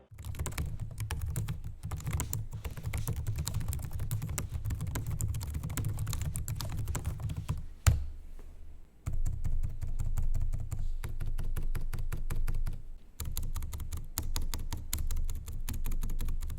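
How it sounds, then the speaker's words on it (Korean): Rapid, steady typing on a Lenovo Legion 7i gaming laptop keyboard, soft clicky keystrokes close up, with a brief pause midway before the tapping resumes. "요즘 키보드와 트랙패드는 피드백보다 편안하고 안정적인 타이핑에 더 초점을 맞췄습니다."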